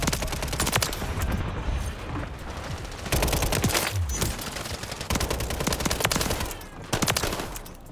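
Rapid WSP 9 submachine gun fire in Modern Warfare III, several loud sustained automatic bursts separated by brief pauses, with crackling shots layered densely together.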